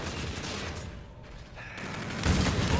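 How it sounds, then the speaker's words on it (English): The M.2187 three-round burst shotgun firing in the Call of Duty: Infinite Warfare video game, dense clustered blasts with a quieter gap before a heavier, louder burst near the end, close and punchy. "It's shooting three-round bursts."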